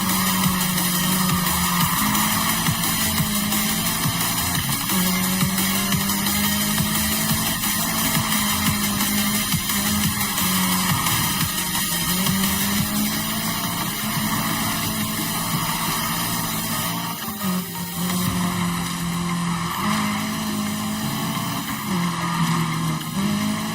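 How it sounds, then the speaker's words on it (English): Car drifting and skidding in the racing game Need for Speed Heat: a steady engine drone with wavering tire squeal runs loud and unbroken throughout, with game music layered underneath. "This car doesn't drift as much."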